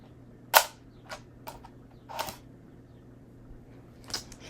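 Pressing the button on a Lego camera set gives a crisp plastic click, followed by several softer clicks and rattles spread over a few seconds, close and alone in a quiet room.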